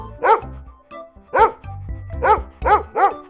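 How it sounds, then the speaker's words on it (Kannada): A dog barks at a milk can in a run of five loud, close, evenly spaced barks with short pauses between them. "ಈ ನಾಯಿ ನನ್ನ ಹಾಲಿನ ಕ್ಯಾನ್ ನೋಡಿ ಕೂಗ್ತಿದೆ."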